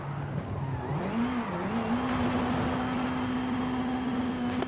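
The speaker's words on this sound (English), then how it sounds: "This is Mr. Kenneth Block's Hoonigan Gymkhana 10 Ford Focus RS RX. 2-litre, turbocharged, front-mounted engine and all-wheel drive" A Hoonigan Gymkhana 10 Ford Focus RS RX with a 2-litre turbocharged front-mounted engine and all-wheel drive, in the game Forza Horizon 5, holds a steady engine drone that dips briefly and then settles into an even hum.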